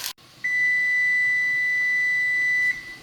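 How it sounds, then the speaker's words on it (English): A kitchen timer sounds one long, steady electronic beep lasting about two seconds, loud and close, with no talking. "Alright, the timer's gone."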